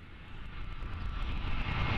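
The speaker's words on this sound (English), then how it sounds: "I wanted to use a jet flyover for the rocket launcher" Jet airliner on final approach passing overhead, recorded from a park beneath the flight path: a broad, loud roar with heavy low rumble that swells steadily, with no voices.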